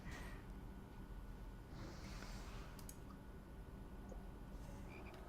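Frog croaks from the Hex spell in World of Warcraft, a short low croak repeating over steady game background noise, with no talk.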